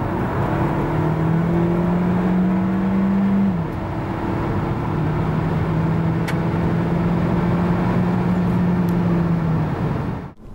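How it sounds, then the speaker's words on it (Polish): A Hyundai Kona 1.6 T-GDI turbo petrol pulls hard from 90 to 140 km/h, its engine drone climbing, dropping at one gear change, then rising again, loud and steady throughout before cutting off at the end. "A tak od 90 do 140 km na godzinę."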